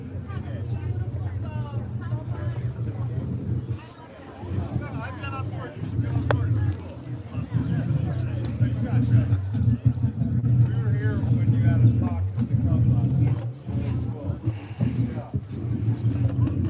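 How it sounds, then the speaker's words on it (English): Steady low rumble of twin gas boat engines, GMC 6-71s, running throughout, with water and wind noise on top and some background chatter. "That's the sound of two gas engines"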